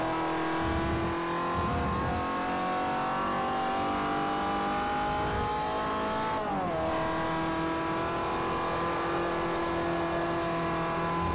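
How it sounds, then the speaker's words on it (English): A race car engine in Forza Motorsport 4 drones at a steady high pitch, then briefly dips and climbs again as it shifts, loud, continuous and echoey throughout. "the engine of this car just sounds odd"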